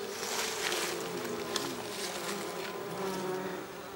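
Bees buzzing around leftover food provisions at an expedition camp in Cameroon, a steady close hum of many insects droning continuously throughout, with no voices.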